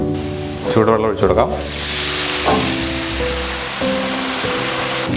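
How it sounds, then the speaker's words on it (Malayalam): Hot water poured into sautéed onions for vermicelli upma sets off a loud, steady sizzle and hiss in the pan, while someone talks over the steam noise. "ഇനി നമുക്കിതിലേക്ക് ചൂടുവെള്ളം ഒഴിച്ചു കൊടുക്കാം"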